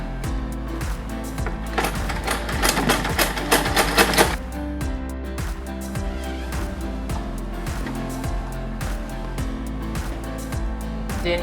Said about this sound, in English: Then you sew down by 1/2 inch.